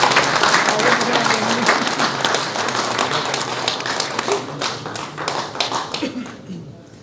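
A crowd at a wine festival ceremony applauds warmly for the oldest winemaker of Nemčiňany. Dense clapping fades out toward the end, with some voices underneath.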